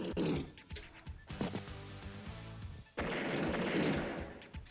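Unit attacks in the video game Advance Wars, with a battlecopter and tanks firing: loud bursts of synthetic gunfire and booming blasts in rapid succession, dense and close, with a heavy explosive rumble at the end.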